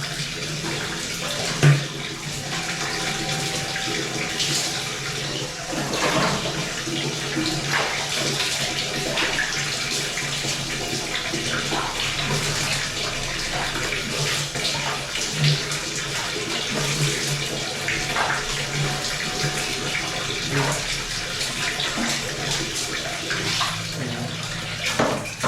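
Water pouring steadily from a tap and overflowing a filled household storage container, a continuous loud splashing rush lasting throughout with no voices.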